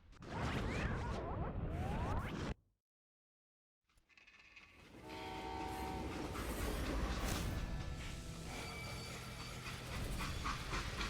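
A moving freight train in the Western shooter game Call of Juarez: Gunslinger: a rumbling rush with a brief whoosh, a sudden cut to silence, then a steady clattering roll of rail cars with metallic, tonal squeals.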